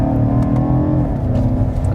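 A 2019 BMW M5 engine hums and revs in exhaust mode while driving downhill on a scenic road, a loud steady low drone from inside the car with no talk.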